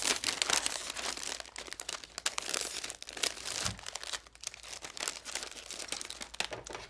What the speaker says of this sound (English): I've cut a piece of cellophane to actually be my liner. We'll put that there and then drop our block of foam in.